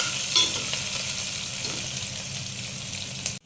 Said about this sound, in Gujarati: ડુંગળીને સારી રીતે સાંતળવા દેવાની છે આપણે।